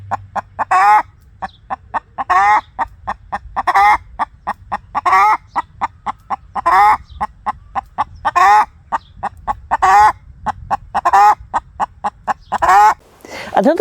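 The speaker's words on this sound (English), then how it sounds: "you will get this very loud call every single night time that your chickens lay an egg" A hen gives her loud egg-laying call, a rapid series of sharp, repeated clucks rising into longer squawks, close and continuous for over ten seconds.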